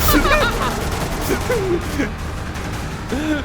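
Gunfire in the video game Metro Awakening, dense bursts crackling continuously underneath people talking over it, moderately loud throughout.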